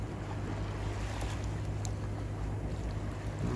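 A boat cruising along the rocky Montenegro coast, with a steady rush of engine, water and wind noise throughout and no voices.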